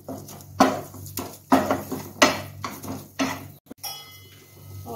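A spoon stirs a pink gel-coloured sweet mixture in a pan, giving several close scraping and clinking strokes of metal against the pan in an uneven rhythm.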